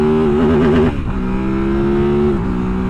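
A Kove 800X Pro adventure motorcycle with a 790cc engine revs hard and accelerates up close, its loud engine note climbing, dipping briefly at a quick gear shift, then pulling steadily again.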